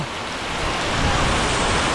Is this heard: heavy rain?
yes